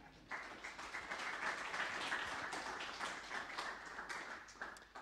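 Audience applause at a Zentyal Summit 2011 conference talk: a steady wash of many hands clapping, fairly faint and distant, holding evenly for several seconds before tapering slightly.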